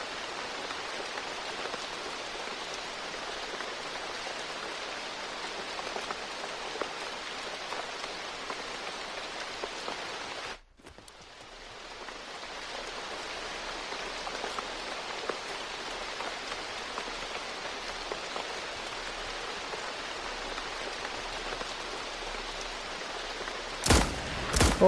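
Steady rain falls in the PS4 game Dreams, a dense even hiss on an outdoor street that continues alone throughout, with a brief dropout midway and a couple of sharp clicks near the end.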